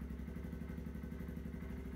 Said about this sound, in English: You can hear the electronic fuel injection system varying the idle speed.